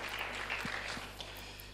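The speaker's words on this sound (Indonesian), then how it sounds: "Tepuk tangan bagi Allah kita" A church congregation claps for God during an Indonesian worship service. The faint, distant applause holds a steady, even texture throughout the short stretch.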